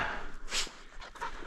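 A hunting dog pants quickly and steadily up close after retrieving a chukar or Hungarian partridge in the Nevada hills, with brief whimpers and breathy bursts scattered through the short passage.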